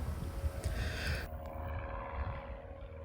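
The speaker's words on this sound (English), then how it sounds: "This is the first footage actually I've ever seen of me taking off in an aircraft" A Cessna light aircraft on takeoff gives a low, steady droning engine and propeller rumble, fairly faint and distant, with a wind-like hiss that drops away partway through.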